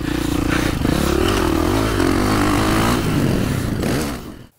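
A KTM 540 SXS motorcycle roars under a rider, its loud, close engine revving and shifting pitch through acceleration before cutting off abruptly at the end.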